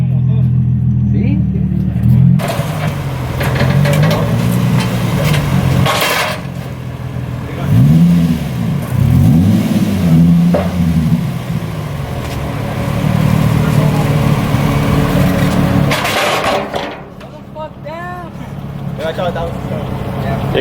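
A Nissan 350Z with a custom single-exit exhaust revs loudly up close, rising and falling through several throttle blips over a steady rumbling idle, with people talking throughout.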